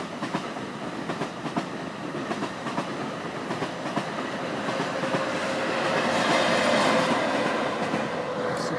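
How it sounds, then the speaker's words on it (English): A train rumbles past with rhythmic clickety-clack of wheels on rails, growing louder and adding a faint squeal as it nears. "there's a train going by up there"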